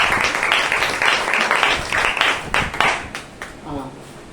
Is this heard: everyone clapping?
yes